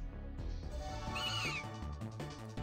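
A short, warbling meow-like creature cry from a Pokémon video game rises and falls over busy game music.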